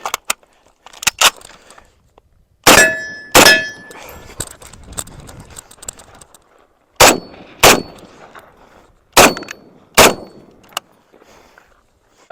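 An M1A rifle fired at steel targets, each shot followed by a sharp metallic ring: seven or eight loud clanging impacts in uneven pairs and singles, separated by short quiet gaps.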